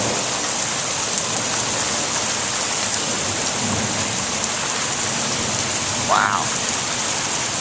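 Heavy rain pours steadily during a thunderstorm, a dense, loud hiss of drops on surfaces with a low rumble beneath, and a voice briefly exclaims near the end.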